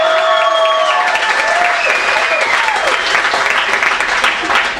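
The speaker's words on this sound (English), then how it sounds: "By round of applause for all my sports fans out" Sustained audience applause fills the room at a big-city sports-themed stand-up comedy show, steady and loud for about five seconds with some crowd noise, then tapering off at the end.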